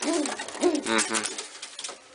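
A pet pigeon coos at close range, two or three throaty, rolling calls in quick succession, loud and clear with a soft rustle between them.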